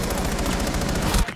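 Rapid automatic gunfire in Rainbow Six Siege comes as an evenly spaced string of loud, close shots that rattles without a break, then cuts off abruptly at the end.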